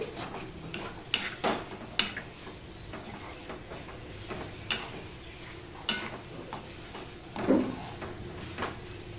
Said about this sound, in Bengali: এবার সম্পূর্ণটা আমি মিশিয়ে নিচ্ছি